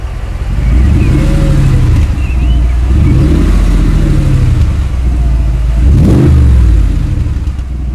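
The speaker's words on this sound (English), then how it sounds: "Listen to the V8 sound." A Mercedes G-Class V8 engine revs up and settles in repeated swells from inside the moving vehicle, loud and steady with a sharper burst near the end.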